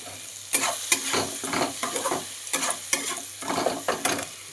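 Green chili paste being stirred in a hot cooking pan, a spoon scraping in a quick uneven rhythm of sharp strokes over a constant sizzle, close and clear with no voices.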